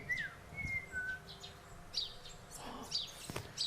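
Bird chattering in a fantasy computer game, heard as a few quick high chirps and rising squeaks scattered over soft background noise and faint clicks, fairly quiet and with no speech.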